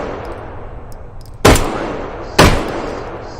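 Two loud, sharp gunshots from a modern 1911 pistol in the VR game H3VR, about a second apart, each with a short decaying tail over a quiet background.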